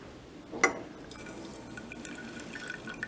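Vinegar pours onto a piece of chalk with one short, sharp splash, followed by faint, scattered fizzing and small drips.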